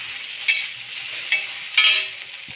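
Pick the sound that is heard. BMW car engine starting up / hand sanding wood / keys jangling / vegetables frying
vegetables frying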